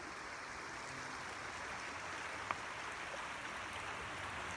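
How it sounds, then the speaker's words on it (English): A creek on the Alabama Pinhoti Trail flows beneath an old wood footbridge, giving a steady, soft, even rush of water that stays constant throughout with no voices. "Beautiful creek here"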